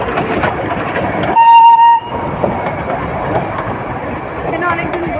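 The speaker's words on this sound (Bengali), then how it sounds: "টয় ট্রেন আসছে।" The Darjeeling toy train arrives at Batasia Loop, its rumble and clatter running throughout and a loud whistle blast cutting in briefly, with people talking nearby.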